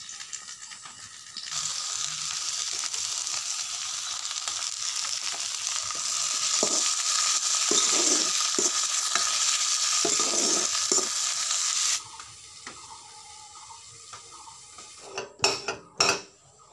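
Potatoes fry in a pan with a bright, continuous sizzle for about ten seconds, broken by stirring scrapes. The sizzle then drops away and a few sharp utensil clanks follow.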